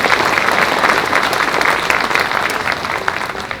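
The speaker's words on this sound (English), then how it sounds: "And another round of applause for the choir." Loud, close applause from an outdoor municipal band concert crowd thanking a choir after the national anthem, a thick continuous roar of clapping with a few brief cheers, no speech.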